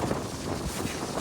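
Wind gusting outdoors in a Gujarati village, a steady broadband rush with buffeting on the microphone, fairly loud and continuous throughout with no voices.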